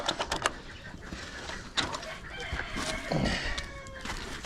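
Asil chickens cluck and crow inside a coop, with clustered clucks near the start and a rooster's crow rising midway, over steady barnyard rustle.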